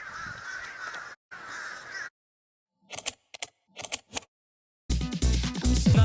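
Crows caw in a few bursts: two harsh calls at first, then short clipped caws separated by silence, then a louder, busier stretch at the end.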